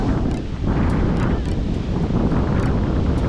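Sea waves crashing forcefully against rocks on a rocky shore at Manapad Beach, a loud, near, rumbling surge with repeated thuds and splashes, partly buffeted by wind noise on the microphone.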